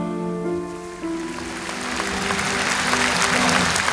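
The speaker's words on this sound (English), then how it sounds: "The applause, which erupted outside Westminster Abbey and quickly spread inside" Applause from a crowd outside Westminster Abbey builds steadily from a faint patter into a dense, sustained clapping while a held organ-like tone fades beneath it.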